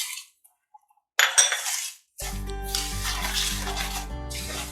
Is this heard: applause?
no